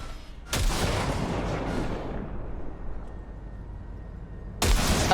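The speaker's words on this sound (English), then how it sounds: "Fire a short burst into it." A short burst of gunfire in the Cyberpunk 2077 video game booms loudly at the start and fades into a long reverberant tail, then a second loud blast cuts in at the end.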